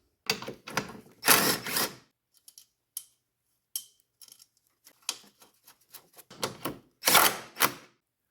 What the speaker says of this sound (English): I'm now going to fasten this ground wire right here at the negative jump point.